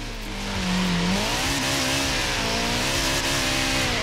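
A Subaru drifting in Forza Horizon 4 holds a loud, steady engine roar at high revs, with a brief pitch dip early on and a faint hint of tire scrub, no voices.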